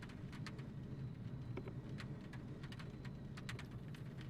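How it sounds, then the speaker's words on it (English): Steady rain on a rainy day in Edinburgh, a dense continuous patter with scattered sharper drop clicks, fairly faint and unbroken throughout, with no voices. "Looks like a rainy day here in Edinburgh."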